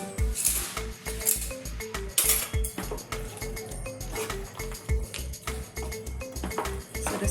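Dry fruits for a sugar-free date and peanut chikki are stirred into ghee in a metal pan, a spoon scraping and clinking against it in a quick, steady rhythm of close, moderately quiet strokes.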